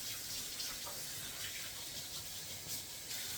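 A crocheted garment is rubbed around by hand in a basin of soapy Woolite water, giving a continuous close watery swish and hiss with no speech.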